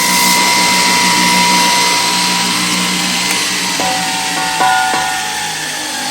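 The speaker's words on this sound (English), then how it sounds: "So let's grind this with the belt sander." Belt sander grinding a steel roll cage part for a 1968 Camaro drag car, a loud, steady abrasive whir with a humming motor tone and brief changes in pitch as the metal is pressed and shifted.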